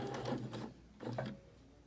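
A sewing machine stitches a fabric face mask in two short bursts of close, steady motor whirring with a brief pause between them.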